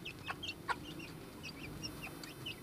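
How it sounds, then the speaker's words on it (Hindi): Aseel hens cluck in short, scattered bursts over a steady low rumble of outdoor background noise, with no one talking. "ये हमारी असील मुर्गी"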